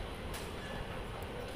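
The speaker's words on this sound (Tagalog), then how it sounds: "There's the train." An MRT train passes through Bayfront station in Singapore, a faint, steady rumble of wheels on rail with a few brief high squeals and clicks, heard alone without talk.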